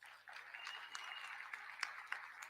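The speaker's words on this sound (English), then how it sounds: "Give us a round of applause." Audience at a university convocation clapping, a fairly faint, even patter of applause heard from a distance with a few sharper claps.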